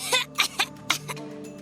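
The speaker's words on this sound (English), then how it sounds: "I was just coughing. I had something in my throat." A person coughs several times in short, sharp bursts, with a little throat clearing, close and fairly loud, then trailing off.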